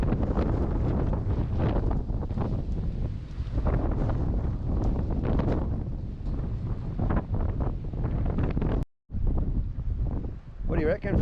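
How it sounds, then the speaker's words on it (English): Strong wind buffets the microphone in heavy, rumbling gusts, briefly dropping out before roaring back, with voices partly mixed in. "It is howling outside. And then it just stops like that. And then it gusts again. Really, really windy."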